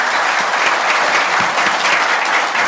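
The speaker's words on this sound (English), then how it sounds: "How about a round of applause for all of our candidates" An audience claps loudly and continuously for the candidates, a thick wash of applause with a few nearby claps standing out.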